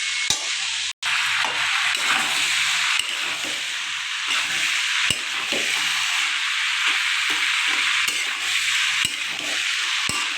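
Chickpeas frying in a pan on a gas stove, a continuous bright sizzle with regular scraping knocks of a spatula stirring them, close and steady.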